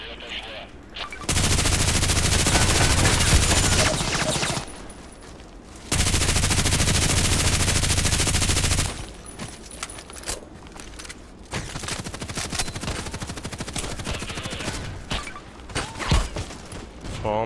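Machine gun fire in the online shooter Contract Wars, an RPK-type light machine gun, sustained loud bursts lasting several seconds each with short pauses between, followed by quieter scattered shots and clatter.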